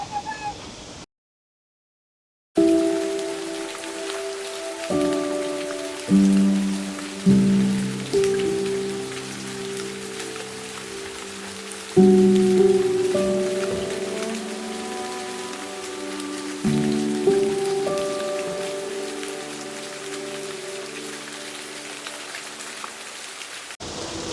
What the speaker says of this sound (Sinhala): පටන් ගත්ත මාරම වැස්සක්